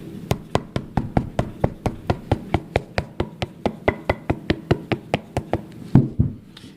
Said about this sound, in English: you just tap it with a hammer to flatten it out.